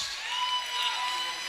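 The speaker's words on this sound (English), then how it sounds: "Crowd getting really into it, though." Roller derby crowd at an indoor bout cheering and applauding, a steady wash of claps and distant whoops held at moderate loudness throughout.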